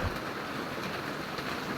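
Heavy rain pours steadily as a dense, even hiss with no pauses, filling the whole stretch without any voices.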